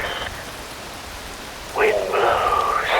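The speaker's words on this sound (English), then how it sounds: "Wind blows, rain falls." Rain falling in the Metal Gear Rising: Revengeance video game. A steady hiss of rainfall runs throughout, with voiced sounds briefly rising over it near the start and again toward the end.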